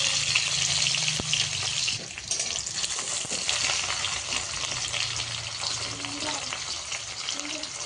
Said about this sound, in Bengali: জিরা ভাজা হয়ে গিয়েছে দিলাম পেঁয়াজ